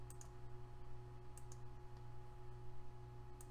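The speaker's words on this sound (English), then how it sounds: "You just want to edit out any that would be clicking noise." Faint sharp clicks sound during a Lego stop-motion recording, three small paired ticks spaced about a second apart over a steady electrical hum.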